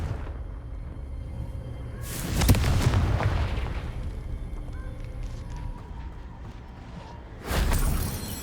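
A Confringo fire spell explodes in Hogwarts Legacy, a loud, close blast with a rumbling tail, followed a few seconds later by a second burst of similar force.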